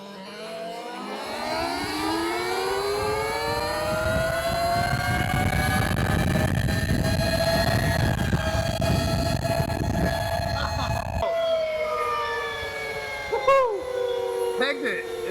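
Talaria Komodo electric dirt bike with a 53.2 sprocket running flat out on a road at its 65 top speed, a steady rising motor whine with strong harmonics and wind rush, easing off near the end.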